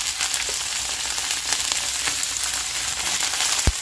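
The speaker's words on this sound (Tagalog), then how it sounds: "Gisa na natin yung ating hipon." Shrimp sautéing in a hot pan give off a steady, loud sizzle and crackle that runs throughout, with a few sharper pops and stirring scrapes near the end and no talking.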